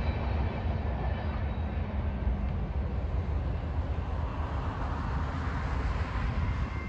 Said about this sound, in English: It's a loco.